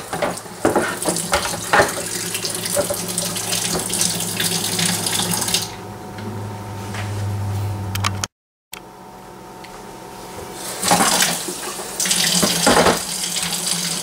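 Water running from a tap into a Cooper home brew kit container, a steady rushing splash that deepens in pitch as the vessel fills, then a brief cut and a few clunks and more splashing.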